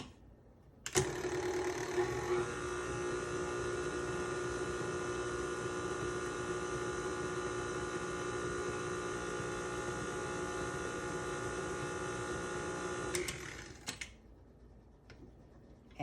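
An electric mixer whirs steadily through raspberry cupcake batter for about twelve seconds, a faint, even motor hum with a sharp click as it starts and stops, heard alone.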